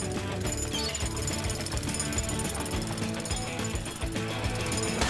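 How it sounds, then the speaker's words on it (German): A cartoon jackhammer pounds continuously with a rapid, harsh rattling, loud and steady throughout without pauses. "Das Bohren ist ganz schön anstrengend."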